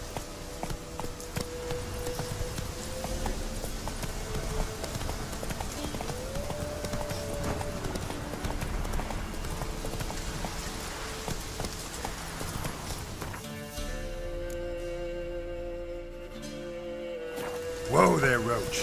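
Horse hooves clop in a steady, rapid rhythm on the ground in The Witcher 3 video game, mixed with game ambience, before the galloping stops and a short, louder sound ends the sequence.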